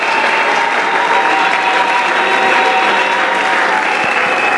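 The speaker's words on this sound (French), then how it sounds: "Quelqu'un acclame le Seigneur fort là." A Sunday church congregation applauds loudly and continuously, a dense wash of clapping with cheering voices mixed in.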